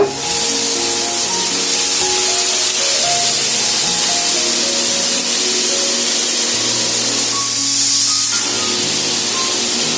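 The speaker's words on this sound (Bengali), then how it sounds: "কড়াইতে তেল দিয়ে দিয়েছি আর এর মধ্যে সমস্ত সবজিগুলো আগে আমি ভেজে নেব" Vegetables fry in hot oil in a wok-style kadai for a vegetarian dalia dish, making a steady, loud sizzling hiss that runs unbroken for ten seconds under faint background tones.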